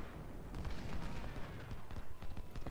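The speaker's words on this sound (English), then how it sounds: "I still want you to fire at the enemy cannons" Cannon and artillery fire in the Civil War strategy game Ultimate General: Civil War, a dense rolling barrage of booms and gunfire, layered and continuous at moderate distance, with no talking.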